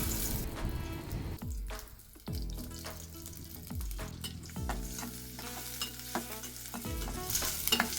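Chopped onion and garlic frying in soybean oil make a loud, dense sizzle and crackle, punctuated by several low thuds and scrapes of stirring spaced a second or so apart, with no voices.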